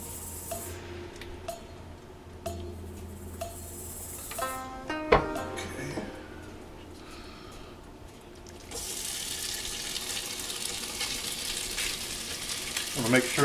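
Shrimp sizzle and fry in oil in a pan for shrimp fried rice, a steady hiss with clinks and stirring knocks, swelling louder in the second half as the frying intensifies.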